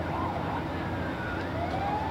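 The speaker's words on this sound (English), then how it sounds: "Kids always like those fire trucks and those sirens and all that fun sound" A fire truck siren wails during the Mound City Days parade, rising and falling tones carried over a dense rumble of crowd and engine noise at moderate distance.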